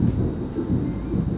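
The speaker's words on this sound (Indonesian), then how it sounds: "Okay, gledek." Thunder rolls in a low, continuous rumble through a rainstorm, steady and fairly loud across the short moment with no voices.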